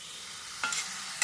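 Vegetables fry in a pan with a soft, steady sizzle, and two brief stirring scrapes break in near the end, close and fairly quiet.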